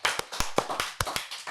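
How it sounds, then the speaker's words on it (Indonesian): A small group claps at a youth chit chat talk session, a sparse run of distinct, fairly close hand claps in an irregular rhythm. "boleh dong teman-teman kasih tepuk tangannya."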